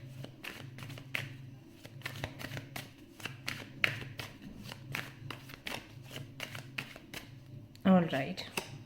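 Tarot cards being shuffled and handled in a steady run of crisp flicks and riffles, close and moderately loud, with a brief louder handling noise near the end.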